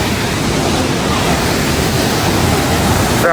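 Powerful river water at Dujiangyan roars in a steady, dense wash close by, loud and unbroken throughout.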